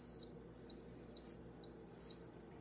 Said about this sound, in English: There goes my alarm.